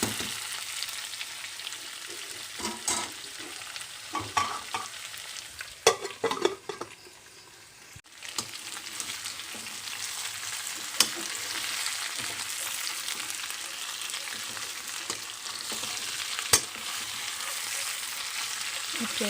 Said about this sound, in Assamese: হেতাৰে লৰাই দিয়ে